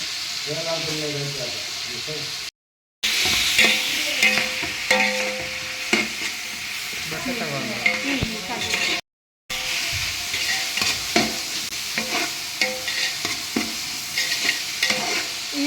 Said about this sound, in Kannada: ಈಗ ಮೆಣಸಿನ್ಕಾಯಿ ಹಾಕ್ತಾ ಇದ್ದೀವಿ ಹಾಗೆ ಪುದೀನ ಈರುಳ್ಳಿ ಚೆನ್ನಾಗಿ ಫ್ರೈ ಆಗಲಿ